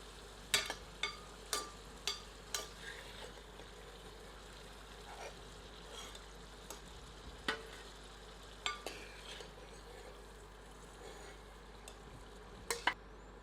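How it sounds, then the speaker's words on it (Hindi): Potatoes roasting in a pan over medium heat, giving a faint background of frying while a utensil taps and scrapes the pan in a quick series of sharp clicks, then a few more scattered later on. "इसके लिए इन्हें मध्यम आंच पर भूनें।"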